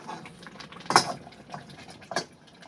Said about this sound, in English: Too much splashing.